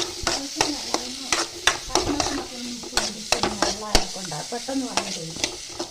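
A spoon stirs snake gourd curry for theeyal in a pan, making close, loud scraping strokes in an uneven rhythm over a soft sizzle, with no talking.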